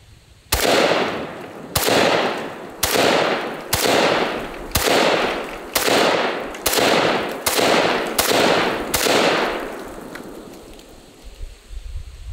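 Steyr AUG A1 rifle fired into a 100-pound block of concrete, ten loud, closely spaced shots at a steady rhythm, each sharp blast trailing off with echo before the next, then the outdoor setting falls quieter.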